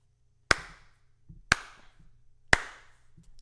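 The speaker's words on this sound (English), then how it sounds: "That's when we get the claps." Three sharp, evenly spaced claps ring out about a second apart against a quiet background, from a WandaVision episode.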